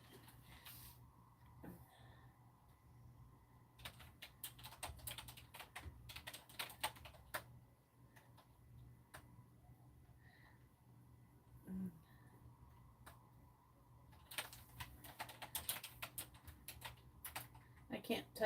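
Fingers type on a computer keyboard in quiet, irregular bursts of clicking keys with short pauses between, while soft voices talk at times in the background.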